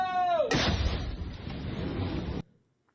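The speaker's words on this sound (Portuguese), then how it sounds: "A gente vai ouvir a detonação dessas granadas agora." A police grenade detonation lands as a sudden sharp burst after a brief descending tone, followed by about two seconds of rumbling, crackling debris noise that cuts off abruptly into near silence.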